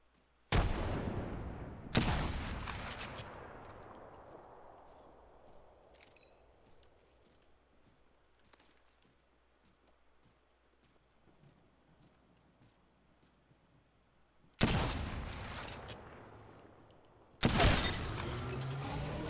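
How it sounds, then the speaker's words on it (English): Bursts of gunfire in a video game firefight: two loud blasts open the stretch, a long quiet gap follows with faint crackle, then two more heavy bursts come near the end. "They're shooting at me."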